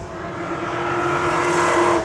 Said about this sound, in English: You just hear cars ripping. That's all you hear.